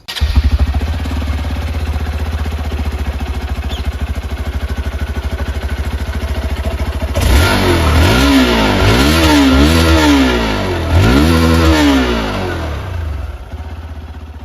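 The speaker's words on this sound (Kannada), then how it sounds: "ಬೈಕ್ನ ಎಕ್ಸಾಸ್ಟ್ ನೋಟ್ ಯಾವ ಥರ ಇದೆ ಅಂತ ನಿಮ್ಗೆ ತೋರಿಸ್ತೀನಿ ಬನ್ನಿ" A Hero Xpulse 200 4V Pro motorcycle idles with a steady throb, then revs up and down several times, the engine rising and falling loudly and close by.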